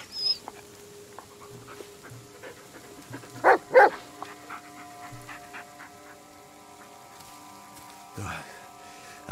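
A dog in the horror video game Blair Witch gives a few short, sharp barks and whimpers, one pair close together and another a few seconds later, over a quiet, droning game ambience.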